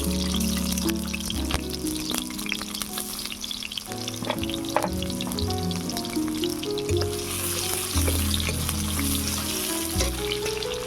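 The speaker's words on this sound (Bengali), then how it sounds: "তার জন্য দিয়ে দিচ্ছি সরিষার তেল, দিয়ে দিচ্ছি পেঁয়াজ কুচি, জিরা কাঁচা লঙ্কা," Chopped onion, cumin and green chili fry in mustard oil, a loud continuous sizzle broken by stirring scrapes and clatter from a utensil in the pan, with no voices.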